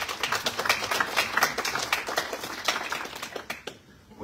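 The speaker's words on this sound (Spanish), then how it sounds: "Demos muchas fuertes palmas al doctor Max Salazar" An audience applauds a speaker at a commemorative law congress at a university, with dense clapping at full strength that thins out and stops after about three and a half seconds.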